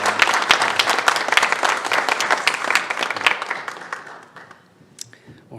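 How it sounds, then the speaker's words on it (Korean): A church congregation claps for a newly married couple during a Sunday service, a dense burst of applause that fills the room and then thins out and fades, with a few scattered claps and murmurs at the end. "우리 결혼한 두 사람을 위해서 힘차게 한번 축복하면서 박수 한번 주세요."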